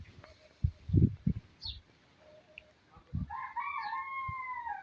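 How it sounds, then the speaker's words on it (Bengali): A rooster crows in a village, a drawn-out rising call near the end, heard after a few bursts of nearby talk and low background noise. "মুরগিটি ডাকতেছে।"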